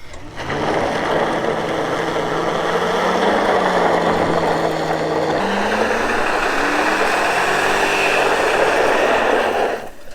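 A Ford Crown Victoria engine holds a loud, steady rev on dirt, with a drawn-out whine that dips and climbs again as the wheels spin, running continuously for about ten seconds.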